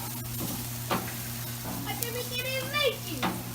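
Ribeye steaks sizzling on a Kamado grill as they are turned, a steady close frying hiss with a few scrapes and clinks of a utensil, and faint voices in the background.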